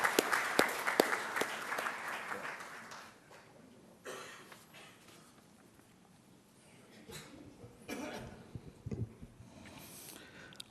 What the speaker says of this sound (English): Friends, welcome him with a big round of applause.